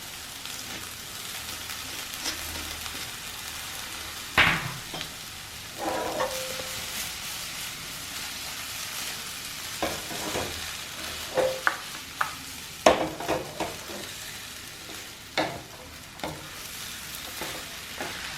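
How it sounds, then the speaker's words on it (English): Whole wheat Hakka noodles stir-fried with cabbage in a pan, giving a soft steady sizzle broken by intermittent scraping and tossing clatters from stirring, with no voices. "Right after adding the cabbage, you can add the noodles. So we are going to add this whole wheat Hakka noodles."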